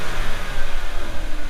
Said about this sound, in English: the car engine's running, and if Cole gives it some gas